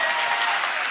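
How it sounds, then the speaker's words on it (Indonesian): A church congregation breaks into a brief, dense wash of clapping, steady and fairly close. "Tepuk tangannya, bisa tepuk tangannya 2 kali lebih semangat gak sih?"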